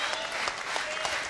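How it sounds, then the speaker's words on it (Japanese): Crowd applause and rhythmic clapping along fill a Tokyo arena during a professional wrestling semi-final match, steady and dense throughout with a loud, continuous wash and periodic beats. "まずはいつものように手拍子で乗っていくスコーピオン"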